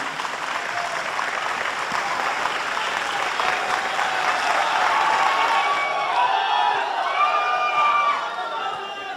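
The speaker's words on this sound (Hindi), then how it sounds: "और जोरदार तालियां बजाएं डॉक्टर कुमार विश्वास" A mushaira audience applauds loudly and steadily, a dense wash of clapping that runs for several seconds with a voice faintly underneath, before tapering near the end.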